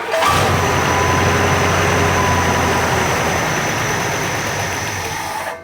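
An International Scout engine on a new carburettor cranks and runs rough, producing a loud, steady engine drone that holds for several seconds before cutting off abruptly.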